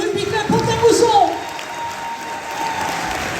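Applause from the audience at a 2023 sports awards ceremony at Espace Montrichard in Pont-à-Mousson as a rugby club comes on stage. Steady, fairly loud clapping runs throughout, with a voice rising briefly over it early on.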